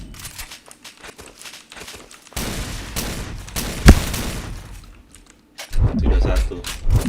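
Shotgun fire in the online shooter Point Blank: dense bursts of game gunfire with one sharp, loud blast partway through, then another heavy volley, with voices in the mix.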